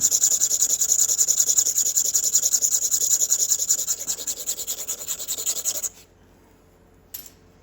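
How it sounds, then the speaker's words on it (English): Steady rhythmic rasping of a file cutting a small facet on a pine wood turning, close and loud with fast repeated strokes for about six seconds, then stopping, followed by one brief scrape. "Grind, file a little facet on there."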